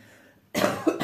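After a moment of near silence, a person coughs loudly and close by, one sharp burst followed by a second, rougher cough.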